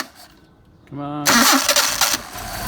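A Mercedes 190SL with rebuilt Solex carburetors cranks with a whirring starter, catches and fires into a loud, rough running engine, with someone speaking briefly just before it starts.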